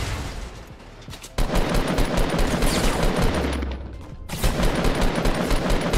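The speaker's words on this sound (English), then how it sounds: "Where the hell were all those bullets going?" Rapid bursts of automatic gunfire from the Fortnite video game, loud and dense, fire in long sustained volleys with a brief lull and an abrupt stop before the shooting resumes.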